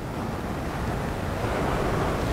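Ocean waves rolling in as a continuous roar of surf, close and loud, mixed with wind rumble on the microphone and no speech.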